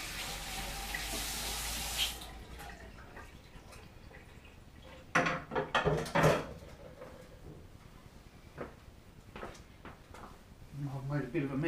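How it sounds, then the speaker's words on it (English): Water from a sink tap runs for a couple of seconds while hands are washed, followed by quieter kitchen clatter, drips and a few knocks as someone tidies up, with a voice speaking now and then. "Go and wash my hands."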